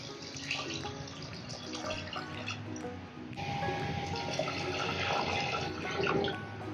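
Warm water pours steadily into a cooking pot holding chopped coriander on a high gas flame, a continuous splashing, gurgling stream that grows fuller and louder partway through, close by with no talk.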